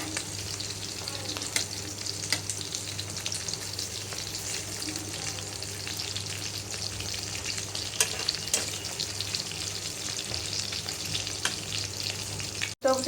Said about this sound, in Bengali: সুন্দর করে আমি কাবাবগুলো ভেজে নিচ্ছি।